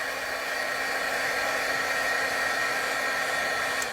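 A heat gun blows steadily to dry titanium buff paint on an art journal page, a continuous close, loud airy roar holding at one level throughout with no talk.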